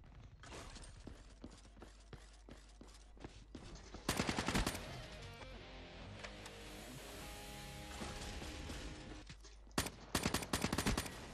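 Gunfire in the multiplayer video game Call of Duty Black Ops 3, rapid repeated shots in bursts, with a louder heavy blast midway and a final flurry of fast shots, prominent throughout.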